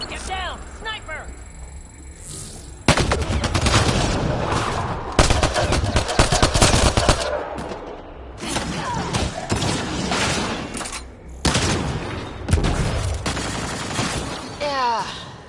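Rapid sniper and automatic gunfire from the Mass Effect Andromeda video game, with heavy loud bursts and repeated shots over several seconds, mixed with shouted voices and combat noise.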